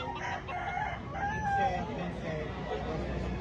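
A fighting rooster crows amid a busy, noisy background at a gamecock market in Lipa, Batangas, its call rising and falling over a couple of seconds beneath chatter and ambient bustle.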